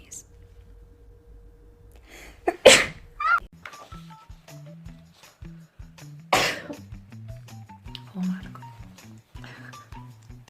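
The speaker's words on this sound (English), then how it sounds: "I really have to sneeze." A woman sneezes twice, with sharp explosive bursts separated by a few seconds amid her speech and throat noises, close and loud against a quiet background.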